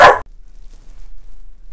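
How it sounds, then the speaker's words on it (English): A single short, loud dog bark at the very start, followed by near silence with only a faint low background hum. "I might have to edit out that screaming, barking noise from my dog"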